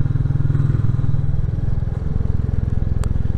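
A Royal Enfield Classic 350 motorcycle on the move, its single-cylinder engine thumping steadily and loudly with a rumbling exhaust and some wind and road noise throughout.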